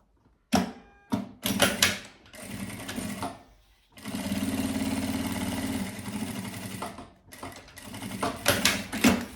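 Domestic sewing machine running a seam along the sides of fabric for an embroidered cosmetic bag, in short bursts at first, then a longer steady run with pauses, close and clear with no talk.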